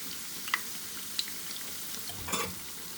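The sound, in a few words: bread finger fries frying in oil until golden brown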